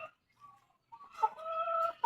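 A hen clucks close by in short separated bursts, a few low calls followed by a longer cluck and a final sharp one, with quiet gaps between.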